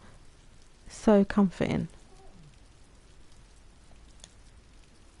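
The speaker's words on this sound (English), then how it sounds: "I love the sound of heavy rain." Heavy rain falling outside an open window on a chilly November night, a steady soft hiss of rainfall beneath a short spoken comment near the start.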